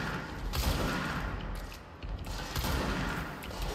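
Rapid bursts of weapon fire from the high-power, very accurate Pierce in the video game Control, sharp loud cracks in quick succession over a dense, noisy action backdrop, with no talking.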